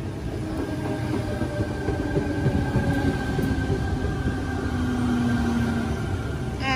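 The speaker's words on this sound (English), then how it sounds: "T105, front four cars." A passenger train rolls past close by at Wolli Creek with a steady, heavy rumble and rhythmic clatter of wheels, holding at an even level throughout.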